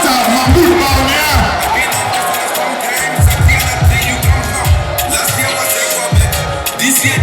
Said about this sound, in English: Ladies and gentlemen, a big round of applause for Dr. Bawumia